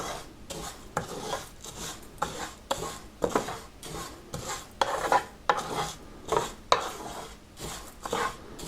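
Vermicelli (semia) being roasted in ghee in a pan, with steady scraping and stirring strokes of a utensil against the metal in a repeated rhythm, close and moderately loud, with no talk.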